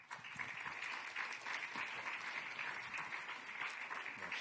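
An audience at a hospital research day applauds award recipients with steady, even clapping that holds at a soft, distant level for several seconds.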